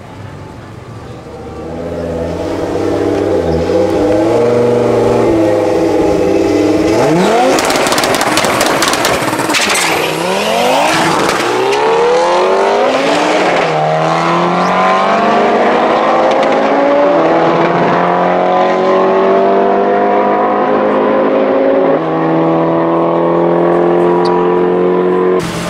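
A 900 bhp Audi Quattro B2 coupe launches hard on a drag strip, its engine roaring loud and close as it revs up, then screams through rising gear pulls with rapid upshifts over nearly half a minute.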